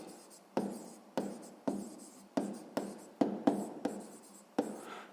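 A pen scratches on paper in a row of about nine short strokes, each starting sharply and trailing off, steady and close while a maths exercise on closing speed is worked out.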